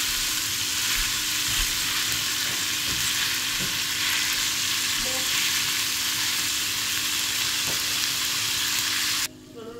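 Chorizo frying in a pan, browning in its own rendered fat, a continuous close crackling sizzle with occasional light stirring taps, cut off abruptly near the end; no talking.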